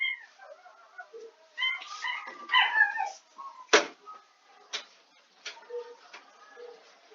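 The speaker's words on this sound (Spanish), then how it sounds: "mi perro estaba llorando y pues tuve que ayudarlo" A pet dog whimpering and crying indoors: high, wavering whines and short yelps with a few sharp clicks or knocks between, fairly close and alone without speech.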